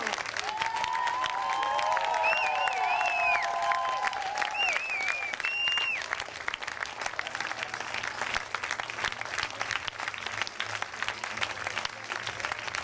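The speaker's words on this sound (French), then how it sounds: "Je vous demanderai de faire un tonnerre d'applaudissements pour les deux équipes ce soir." A large audience gives sustained applause for both teams at an improv match in Nantes, a dense steady wash of clapping running throughout, with whistles or cheers rising briefly near the start.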